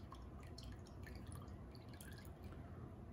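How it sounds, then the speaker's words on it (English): Water dripping from a wet paper towel being wrung out over a container, a soft steady patter of drips close by with no talking. "And then we're going to wring out the excess water"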